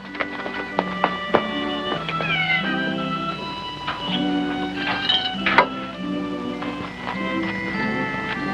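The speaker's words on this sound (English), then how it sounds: "Petting a mangy old stray cat." A mangy old stray cat meows repeatedly up close, with drawn-out, wavering cries amid background music.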